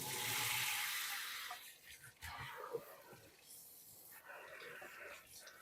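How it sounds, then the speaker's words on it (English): Cool tap water runs in a steady hiss and splash for rinsing corned beef, loudest at first, then broken by shifting splashes as the flow hits the meat and sink. "we want to get some nice cool water"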